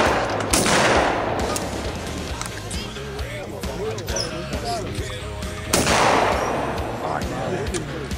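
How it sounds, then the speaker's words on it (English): Shotgun blasts at a church skeet shoot, two loud sharp reports several seconds apart, each followed by a fading echo, with voices and outdoor clatter between them. "Skeet shooting in Granville."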